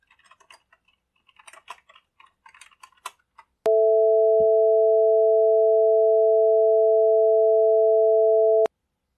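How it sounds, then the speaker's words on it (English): Two steady sine tones of different pitch play together as one unbroken combined sound for about five seconds, loud and clean, starting abruptly after a stretch of faint clicky tapping and stopping just as abruptly. "We can really hear both tones in the combined sound."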